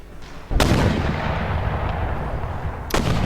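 Mortar artillery fire in the video game Empire: Total War, two loud booming shots about two seconds apart over a steady rumbling battlefield background.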